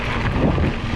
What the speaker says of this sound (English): A little windy again, you can tell in the background.